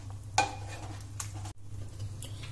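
Biryani masala stirred in a pot, with a spoon clanking and scraping against the metal in a few separate knocks over a low steady hum.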